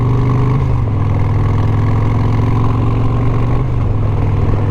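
A Harley-Davidson Road Glide engine idles steadily and loudly up close, a smooth, even rumble with little cam lope and no other sounds.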